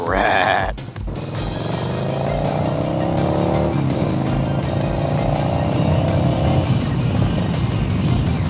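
A salvaged, previously run-down motorcycle called the Bolt accelerates while being ridden, its engine note climbing steadily in pitch under loud, continuous wind and road rumble, after a brief sharp noise at the start.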